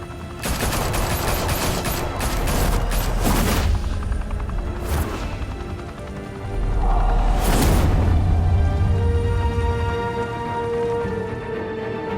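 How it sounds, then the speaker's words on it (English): Gunfire in the video game Batman Arkham City: dense bursts of rapid shots and a few heavy booms over a loud, rumbling background, close and continuous for most of the stretch, with no speech. "Open fire!"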